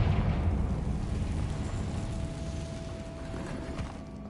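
The Confringo fire-blast spell in Hogwarts Legacy bursts into a rumbling, explosive roar that slowly decays, with crackling debris and a low tail, loud and alone.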